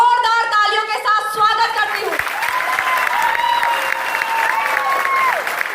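Audience applause fills a seminar hall in the ISKCON auditorium, Delhi, as a dense, steady wash that continues under a voice and tonal music without fading.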